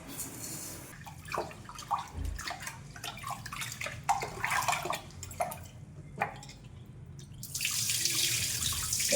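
Rice being washed in water in a kitchen vessel, running tap water with splashing, sloshing and drips, close and steady for about nine seconds with a louder flow at the end.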